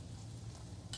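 Fresh garlic sizzling in hot oil in a pan for butter chicken, a steady soft frying hiss held close throughout the second, with a brief louder burst at the very end.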